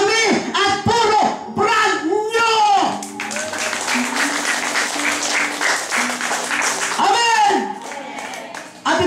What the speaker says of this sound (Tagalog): Hina naman ang palakpak mo.